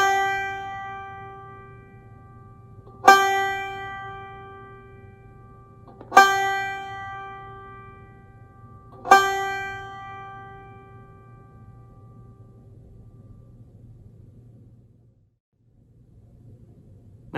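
High open G on the fifth string of a banjo, plucked three times at even intervals, each bright ringing note fading out before a quiet stretch at the end, close with no talk.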